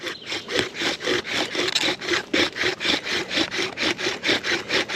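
A bow drill built from natural materials saws back and forth against wood in a steady rhythm of rasping strokes, about three per second, loud and close with no talking.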